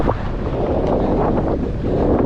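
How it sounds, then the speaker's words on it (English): Strong wind on the Isle of Skye buffets the microphone in a steady, rumbling roar with gusty swells, loud and close, no voices. "Oh, it's windy again."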